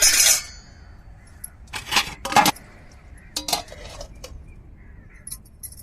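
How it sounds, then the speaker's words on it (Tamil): A metal plate set down as a lid over a pot of murrel fish curry, giving a few sharp metallic clanks and clinks close by, separated by quiet pauses. "இப்போ தட்டை போட்டு நம்ம மூடி வச்சிருவோம்"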